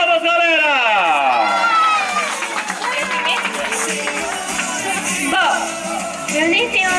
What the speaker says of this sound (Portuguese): Uma salva de palmas, galera!